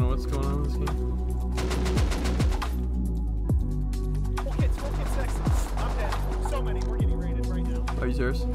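Rapid gunfire crackles in the Rust video game during online PvP raids, with repeated bursts of sharp shots and metallic clatter, close and loud, mixed with talking players.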